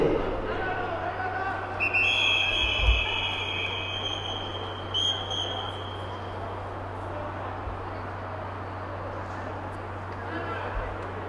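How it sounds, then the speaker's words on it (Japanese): A referee's whistle at an American football game, a couple of shrill high blasts at an outdoor stadium over crowd murmur, with a commentator talking throughout. "ここでホイッスルが鳴っている。"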